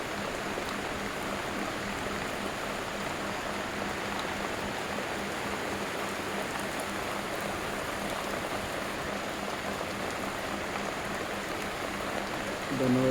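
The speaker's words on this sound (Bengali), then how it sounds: "দেখতে পাচ্ছেন অসাধারণ বৃষ্টি হচ্ছে।" Steady rain pours down at night, a dense, even hiss of drops on surfaces that holds unbroken for the whole stretch, close and moderately loud with no voices over it.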